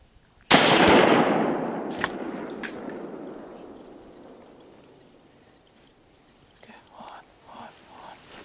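A single loud rifle shot cracks out close by during a youth deer hunt in Wisconsin, then its echo rolls away and fades over several seconds. Whispered voices come before the shot, and there is quiet talk as the echo dies.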